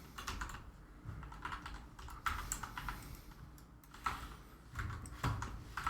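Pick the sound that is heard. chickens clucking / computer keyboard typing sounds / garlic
computer keyboard typing sounds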